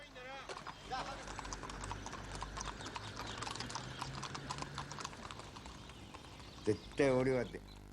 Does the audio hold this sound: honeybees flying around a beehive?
no